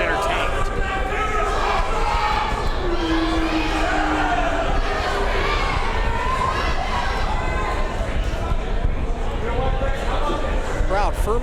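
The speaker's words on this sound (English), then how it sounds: "Section of the crowd cheering for Andy." A wrestling crowd cheers and shouts continuously at a live event, a dense loud roar of many voices throughout.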